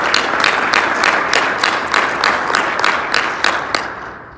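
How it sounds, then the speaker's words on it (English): Audience members at a mayor's annual State of the City address clap in a steady, evenly spaced rhythm, with moderately loud claps repeating for several seconds before tapering off. "So I think we deserve a round of applause for that as"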